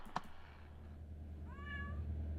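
A single drawn-out cat meow from the video game Kentucky Route Zero, rising and falling in tone, rings out clearly over a steady low hum after an earlier brief click.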